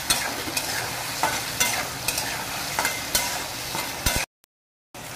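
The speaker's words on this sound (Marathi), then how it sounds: "वांगं असं तेलामध्ये चांगलं फ्राय करायचं" Washed brinjal pieces fry in hot oil for a village-style curry, giving a loud, steady sizzle with sharp stirring clicks. The sound cuts to near silence close to the end.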